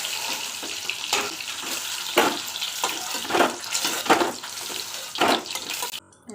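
Eggs frying in oil in a pan, a continuous sizzle rising in spitting surges as each egg hits the hot oil.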